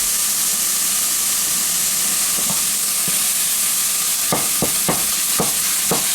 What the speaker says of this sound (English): Everybody knows how to brown ground beef, right?